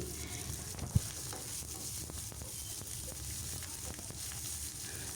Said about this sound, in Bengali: এখন ভালোভাবে নাড়াচাড়া করে ভেজে নিচ্ছি